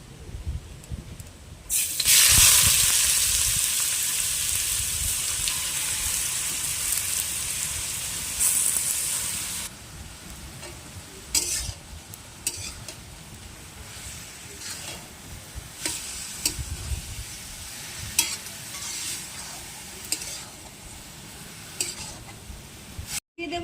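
Grated cucumber for a chutney hits hot oil with a loud, bright sizzle that crackles steadily for several seconds, then settles into a quieter frying hiss with occasional stirring clinks; nobody speaks.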